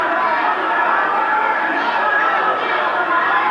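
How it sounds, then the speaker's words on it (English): Capacity crowd at Lake Charles Civic Center roaring and chattering continuously for a boxing match, a dense steady wash of voices. "Listen to this crowd, a capacity crowd here at Lake Charles Civic Center,"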